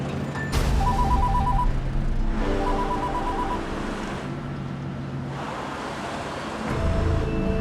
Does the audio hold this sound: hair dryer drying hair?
no